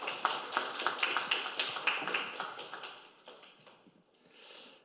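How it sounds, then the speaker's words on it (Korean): An audience at a National Assembly talk concert in Korea claps for an arriving guest: brisk, fairly close applause that builds, then thins out into a few scattered claps before fading. "박수로 한번 맞이해 주십시오."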